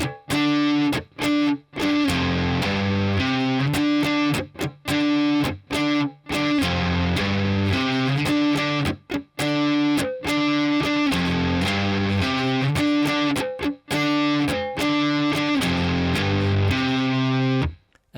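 Heavily distorted electric guitar loops a chorus riff, loud and continuous with short choppy rhythmic breaks and repeated palm-muted chugs, no voices.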